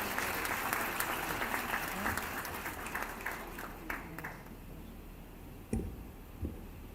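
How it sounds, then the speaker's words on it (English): Audience at an international human rights moot court competition applauds steadily, dense clapping filling the room throughout and thinning slightly toward the end with a few louder claps. "Can we have a huge round of applause for Sir?"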